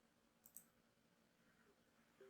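A computer mouse gives a couple of faint, quick clicks close by in a quiet room, with a sharper click at the very end.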